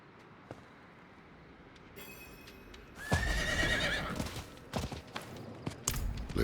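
Horses in the video game Diablo 4 give a loud whinny, then hooves clop in a scattered rhythm over a low ambient rumble.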